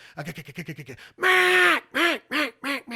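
A duck call sounds like a mallard, a run of quick clipped quacks followed by a long drawn-out quack and several shorter falling ones, loud and close, no talking.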